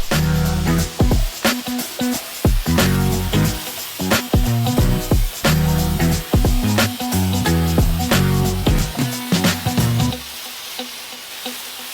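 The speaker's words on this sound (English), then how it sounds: "So we'll go ahead and rinse off StreetSpeed's wheel cleaner." Loud, continuous hissing water spray rinsing wheel cleaner off a car wheel, with rhythmic pulses and splashes before it cuts off near the end.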